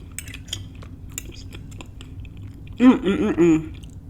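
Chewing on a crab stuffed portabella mushroom dinner, soft quiet mouth sounds with a few light clinks of cutlery, then a louder burst of close, wet chewing near the end.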